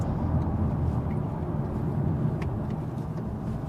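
A VW T-Roc R with an optional Akrapovic exhaust accelerates up a road, heard from inside as a loud, sustained engine and exhaust roar over road noise.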